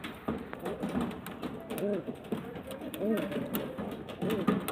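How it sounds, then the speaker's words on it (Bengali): An old pigeon of an old-generation line coos in a few short, wavering bursts close by. The cooing comes amid handling noise and rustling while someone talks throughout. "অনেক বয়স হয়ে গেছে পায়রাটা, আর একদম ওল্ড জেনারেশনের পায়রা"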